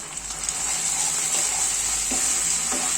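Chicken curry sizzles steadily in a hot pan after chili powder goes in, with a spoon scraping and stirring in a few distinct strokes over the constant frying hiss.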